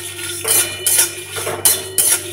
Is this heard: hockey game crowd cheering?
no